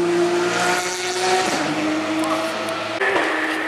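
A Porsche Cup race car driven on the Nürburgring gives a steady, loud engine drone with harmonic tones that shift in pitch partway through, as if changing gear, with road and wind noise throughout and no talk.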